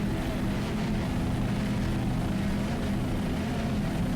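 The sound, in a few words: 36-foot Sonic racing powerboat with Mercruiser inboard engines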